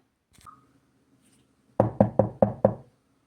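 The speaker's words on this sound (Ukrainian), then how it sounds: "До нас хтось стукає." Someone knocks on a door with five sharp, evenly spaced raps, close and loud, after a faint tap and a brief quiet stretch.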